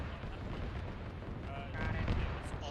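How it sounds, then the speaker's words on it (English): Gunfire from a BMP armoured vehicle in the video game ArmA 3, heavy booming fire rumbling under radio chatter, swelling louder near the end. "BMP's still firing, have him re-attack."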